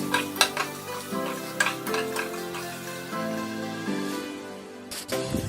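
Onions being stirred in hot oil in a pan, a steady soft sizzle with scraping and clinking stirs of a utensil against the pan, close and moderately quiet with no talking.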